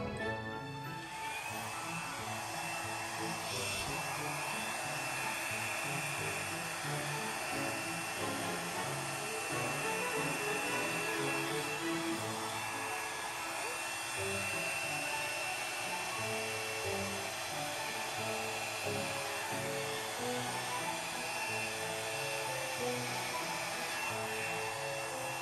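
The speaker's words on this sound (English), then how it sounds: "try and blow this out like a skirt for Cinderella" Steady loud blowing of poured acrylic paint for a Dutch pour, probably from an air blower, making a continuous broadband whoosh with a faint whine that stays even throughout.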